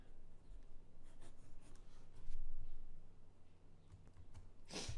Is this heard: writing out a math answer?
yes